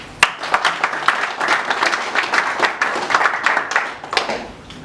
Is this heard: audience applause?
yes